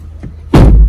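A McLaren car door swings shut with a single heavy, close thud after a brief faint bump.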